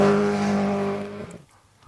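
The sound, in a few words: Ben Hunt's standard Group N rally car driving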